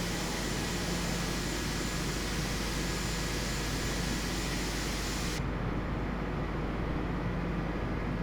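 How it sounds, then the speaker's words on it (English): Airbus A320neo jet engines in Microsoft Flight Simulator, heard from near the engines at a Bucharest airport as a loud, steady, unbroken roar and whine, with the highest hiss dropping away late on. "the sound is a bit loud when it gets close to the engines"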